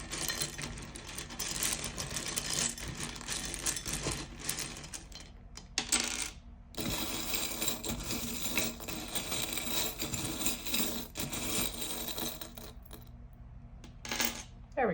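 Letter tiles being shuffled out by hand before a reading, a continuous clattering, clicking rattle with brief pauses, close and fairly loud throughout, with no talking.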